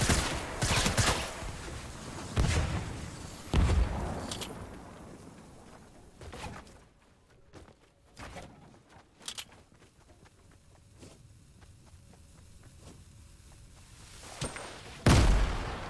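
Video game firefight in a duos match: several sharp, loud gunshot and grenade blasts at the start, then quieter scattered shots and footsteps, and a final heavy boom near the end.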